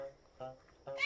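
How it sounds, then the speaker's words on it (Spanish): A cat gives short repeated meows, two or three close, moderately loud calls in quick succession. "¡Qué gato tan pesado con tanto maullido!"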